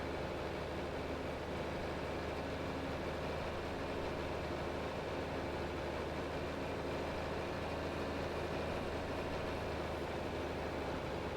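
Little tractor engine from Farming Simulator 25 running along the edge of a Montana field, a constant loud low rumble holding steady throughout with no pauses and no speech.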